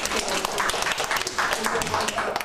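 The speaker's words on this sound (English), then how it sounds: "give Michael a big round of applause" A group of young children and adults clapping for a five-year-old boy in an early years classroom, a short patter of claps alongside voices.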